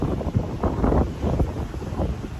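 Strong wind buffets the microphone in heavy, uneven gusts, with a low rumbling rush on the seaside of Jeju Island, South Korea.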